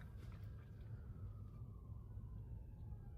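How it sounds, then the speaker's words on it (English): Faint, distant emergency vehicle sirens wailing with slowly falling pitch, heard over a low rumble of traffic and room noise. "there's sirens, so I'm gonna wait a second"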